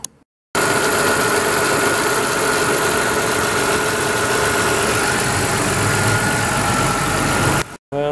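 A car engine runs steadily just after start-up and makes an odd noise, a loud, continuous close drone with a rough, knocking vibration that starts and stops abruptly.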